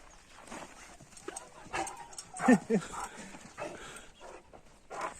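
Kangal dogs give a few short barks and whimpers close by, mixed with people talking and scuffling on a highland pasture after rain.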